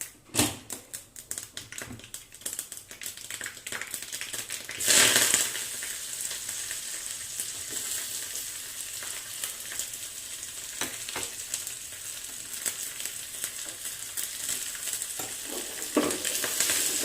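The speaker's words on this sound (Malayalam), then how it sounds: "എണ്ണ ചൂടായി വരട്ടെ. കടുക് ഇട്ട് കൊടുക്കാം." Mustard seeds dropped into hot coconut oil, crackling and spluttering in quick irregular pops over a continuous frying hiss, close and fairly quiet, with a sharper burst about a third of the way in.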